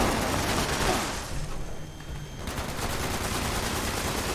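Sustained automatic gunfire from the video game Fallout 76, a dense, loud rattle of shots that thins briefly midway before resuming at full intensity, with no talking.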